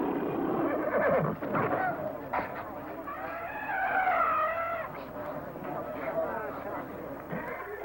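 A horse whinnies amid busy background sound and overlapping voices, with a few sharp clattering noises mixed in.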